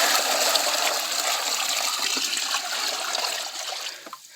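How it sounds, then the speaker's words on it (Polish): Water pours in a steady rushing stream, fairly close and loud, into a container for sheep and chickens on an allotment, tapering off near the end with a few splashes and drips. "naleję teraz tą wodę tutaj"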